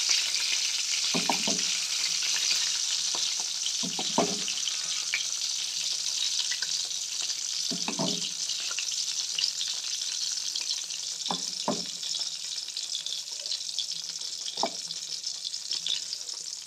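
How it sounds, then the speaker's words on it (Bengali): Spoonfuls of masoor dal fritter batter are dropped into hot oil one at a time, each landing with a soft plop under a continuous bright, close sizzle, with no talking. "এবার আমি তেলের মধ্যে বড়ার মতো করে ছেড়ে দেব।"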